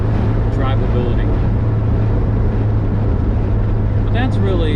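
A Volkswagen Vanagon with a Honda K24A engine conversion drives along, giving a loud, steady low drone of engine and road noise inside the cabin while someone talks over it.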